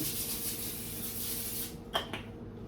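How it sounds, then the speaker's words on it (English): A short burst of non-calorie cooking spray hisses onto a pan near the end, following steady background noise, with a second brief puff right after. "We're gonna spray our pan with some non-calorie spray."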